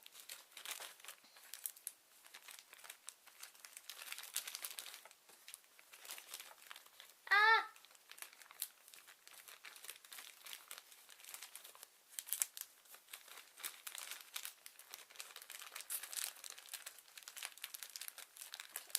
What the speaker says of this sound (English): Tape the glitter back up so it can't get everywhere